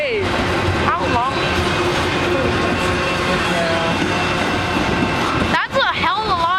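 A Canadian Pacific freight train rolls past at Pitt Meadows, a loud continuous rumble with steady wheel and rail noise throughout and a brief dip near the end, with a person talking over it.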